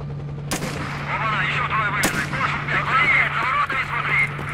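Two sharp, loud gunshots a second and a half apart ring out in the STALKER Narodnaya Solyanka shooter outside the CNPP, over a steady low hum and scattered game noises, with a player talking quietly beneath.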